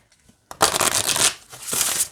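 Wide oracle cards are riffled and shuffled in two quick bursts, a brisk papery fluttering close by, with a short pause between them.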